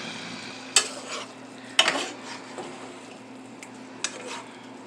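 Calabacitas, Mexican squash, frying in a pan, a soft steady sizzle broken by a few sharp scrapes and clinks as a utensil stirs against the pan, with no talk.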